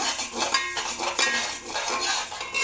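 Fenugreek seeds roast in a pan and are stirred, giving a close, clattering scrape of metal on the pan. Bursts of rattling come in uneven strokes, with a light sizzle underneath.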